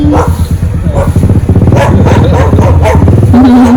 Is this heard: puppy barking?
yes